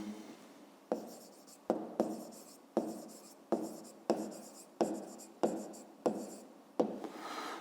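Pen or chalk writing by hand during a fifth-grade math lesson, a series of about nine distinct stroke bursts with sharp onsets, each fading out before the next, close and fairly quiet, with no talking.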